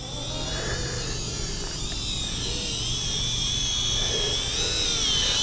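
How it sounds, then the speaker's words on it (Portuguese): A WLtoys Q353 amphibious toy drone flies close by after lifting off from water, its small rotors giving a steady, loud high-pitched whine that holds unbroken and alone throughout. "Gente, que drone!"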